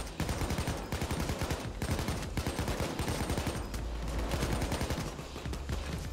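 Video game gunfire from a PayDay 2 bank heist: rapid, dense bursts of automatic shots crackling almost without pause, loud and close, with occasional brief gaps between volleys.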